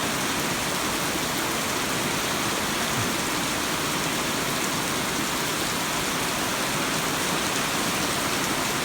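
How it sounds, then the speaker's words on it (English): Steady rain falls on an outdoor farm area where cattle are kept, a dense continuous hiss of drops drumming on surfaces, close and even throughout with no talking. "we're getting some rain out of this"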